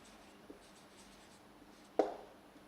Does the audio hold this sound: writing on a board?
yes